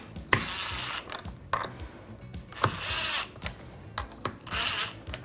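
Screws being driven in a circular pattern on a 4L60E transmission servo cover, heard as short whirring tool bursts and clicks repeated several times, close up and without talk.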